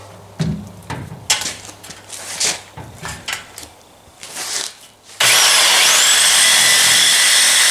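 A Sawzall reciprocating saw cutting the exhaust pipe on a Nissan Frontier starts with scattered metallic clanks and scraping, then after about five seconds bursts into a loud, steady, harsh buzzing cut that continues to the end.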